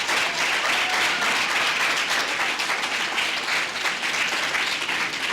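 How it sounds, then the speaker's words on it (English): Dense, loud applause from a university campus audience for media and communication students, a continuous wash of many hands clapping evenly for several seconds with no talk over it. "I want for all of us to join me in giving them a sincere and a deep round of applause."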